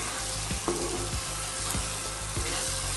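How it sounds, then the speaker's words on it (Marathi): Masala fries in a pan, giving a steady, close sizzle broken by several sharp stirring scrapes at a regular pace, with no talking. "हे बघा, जरा चांगलं भाजू दे नाही मसाला"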